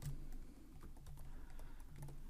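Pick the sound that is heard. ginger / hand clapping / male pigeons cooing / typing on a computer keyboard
typing on a computer keyboard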